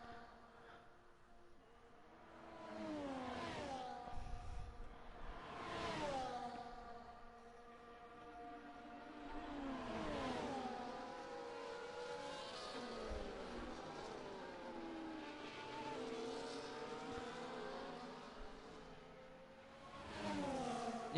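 Race cars, including a Ferrari, Red Bull and Haas, run around the Bahrain circuit, engines whining and shifting pitch as cars pass at a distance, with repeated rising and falling passes under a steady crowd-and-track wash.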